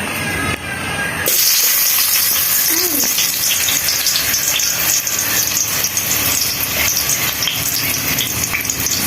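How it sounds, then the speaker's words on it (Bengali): Chopped onions dropped into hot oil in a home kitchen pan: a sudden loud, steady hiss and crackle that starts after a second and keeps going near the mic, with a faint voice briefly underneath. "তো এখন তেলটা গরম করে নিব এখন পেঁয়াজটা দিয়ে দিব"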